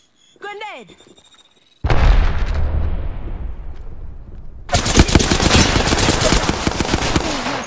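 In Apex Legends, a loud grenade blast booms and rumbles away, then rapid heavy gunfire rattles on in a dense close burst, with a brief tonal game sound before the explosion.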